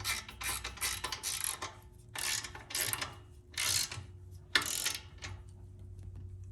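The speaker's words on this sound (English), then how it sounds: "So 13 millimeter deep, and we're just tightening up the bracket." Hand ratchet with a 13 mm deep socket tightening a light bar bracket on a Polaris RZR 900: several bursts of quick clicking close by, separated by short quiet gaps over a low steady hum.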